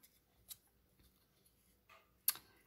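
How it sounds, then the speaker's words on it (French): Small scissors snip around a paper label on a handmade greeting card in a quiet room, giving a few sparse, crisp clicks, with one sharp close snip near the end. "Maintenant, les petits ciseaux. Et on va venir découper toute notre étiquette autour."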